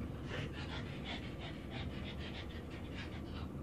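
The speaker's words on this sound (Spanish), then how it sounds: "Perdón si se escuchan esos jadeos, es porque está mi perrito ahí." A small pet dog pants rapidly and steadily close by, a continuous breathy rhythm of quick in-out puffs that lasts throughout, with no talking over it.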